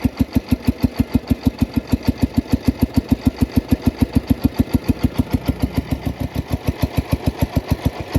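Small Farmall Cub tractor engine idling very low, a loud, close, steady chuff of evenly spaced firing pulses, about six per second, running alone.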